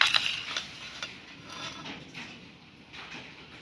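Batter being mixed with salt and turmeric in a bowl, with clinks and scraping strokes from a utensil against the bowl. The strokes come irregularly and fairly softly, and no voices are heard.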